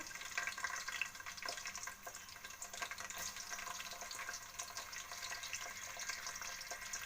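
Onion frying in hot oil inside a pressure cooker with cinnamon, cloves and bay leaf, a steady close hiss and crackle of sizzling that holds at low level throughout, with no talking.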